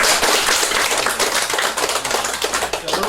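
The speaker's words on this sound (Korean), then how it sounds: "자, 박수 한번 주세요" Applause at a qigong lecture by a monk: dense, rapid clapping from a room full of people, loud and continuous for a few seconds with no talk over it.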